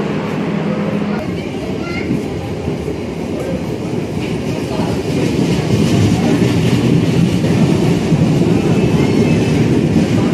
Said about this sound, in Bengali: চলে গেল ট্রেন।